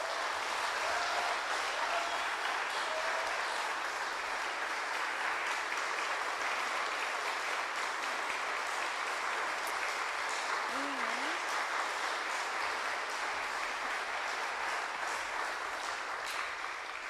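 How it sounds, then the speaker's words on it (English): Audience applause for two speakers at a talk on abolishing corporate personhood, dense continuous clapping from a sizable crowd that holds steady at full strength throughout. "I would like to give a big round of applause to these 2 awesome folks."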